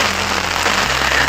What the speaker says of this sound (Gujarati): તો વરસાદ આવ્યો